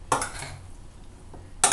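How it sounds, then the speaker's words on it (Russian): A utensil stirs chopped bracken fern in a metal pot, giving two sharp clattering scrapes with a quieter knock between them, close and clear with no talking. "И перемешиваете в кастрюле, то есть порезанный нашинкованный папоротник"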